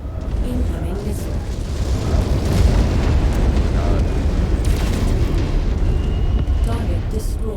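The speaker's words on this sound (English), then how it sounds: "Incoming missile." Incoming missile explosion in the mech combat video game MechWarrior 5: Mercenaries, a loud, sustained blast roar that fills the whole stretch, with radio-style voices over the top.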